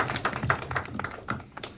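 A church youth congregation at a Sunday high school service gives a short round of scattered applause, with separate distinct claps at an irregular rhythm, moderately close and not very loud.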